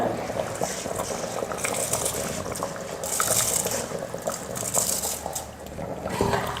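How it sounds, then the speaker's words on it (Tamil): Soaked, washed and drained seeraga samba rice goes into boiling water in a cooker for chicken biryani, giving a steady bubbling, trickling wash of liquid with soft splashes and no talk. "இப்போ அரிசி சேர்த்துக்கிறேன்"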